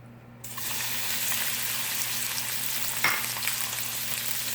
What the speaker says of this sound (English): I'm gonna add me a little oil to my pan. I'm gonna go ahead and add my shrimp.